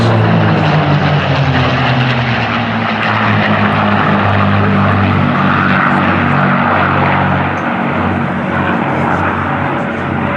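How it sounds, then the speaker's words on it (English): A trio of P-51 Mustang fighters passes at the Flying Legends airshow at Duxford, a loud sustained propeller-engine roar with a falling drone as they sweep by, with no one speaking. "from the right, ladies and gentlemen, a trio P-51s"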